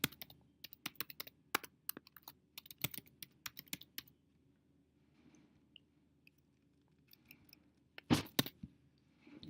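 Quick clusters of crisp clicks on a computer keyboard enter a company name and email address, bursts of keystrokes with short pauses, then a lull before a final flurry.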